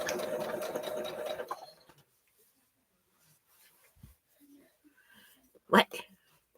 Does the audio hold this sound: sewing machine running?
yes